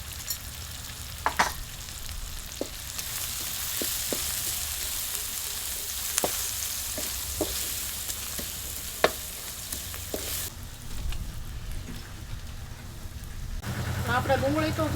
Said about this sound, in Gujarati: હવે આપણે છે ને આ ડુંગળીને થોડી તળવા દેવાની છે